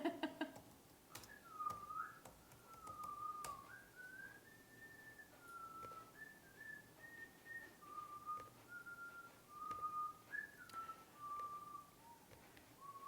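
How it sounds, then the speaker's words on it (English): A person whistles a short melodic tune outdoors, the notes held and stepping up and down in a steady line over faint background ambience, with no talking. "can you just whistle a little tune for a second?"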